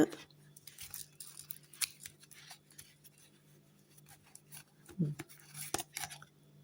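A tarot deck is cut and handled, making soft card slaps, riffles and rubbing shuffles in short irregular bursts, quiet and close, with a low background hum.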